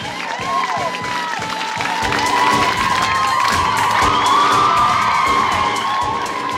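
A large crowd cheers and shouts continuously, with high whoops and screams rising over a dense roar that swells slightly toward the middle and stays loud throughout.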